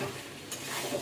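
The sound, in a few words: meat and raw potatoes sautéing in a pan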